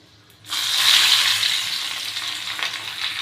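Onions hit hot oil with cinnamon and cloves and burst into a loud, close sizzle, which settles into a steady, crackling fry.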